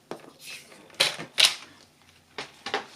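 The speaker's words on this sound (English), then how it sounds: "And this is how you can cut your paper" Designer Series Paper being cut close by, with several short, sharp scraping bursts at irregular intervals and quiet gaps between them; no talking.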